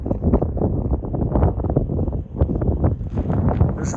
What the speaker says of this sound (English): It's windy as hell out here